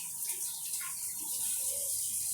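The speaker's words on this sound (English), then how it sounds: "you want to take your russet potato and you want to rinse these out with water." Steady running water from a faucet pours as russet potatoes are rinsed and rubbed, a continuous broadband wash with small splashy shifts from handling, close and alone.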